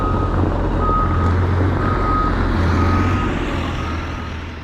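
A logging truck labours on a muddy road near Whites Bay, its engine droning loud and steady with repeated reversing beeps sounding throughout, as the back wheels churn the mud before fading slightly at the end.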